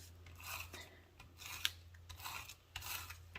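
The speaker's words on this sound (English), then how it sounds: "Now, all I'm going to do is use my tape runner." A tape runner applying adhesive to a holiday card, producing quiet rasping, rubbing strokes in short repeated passes, close and faint.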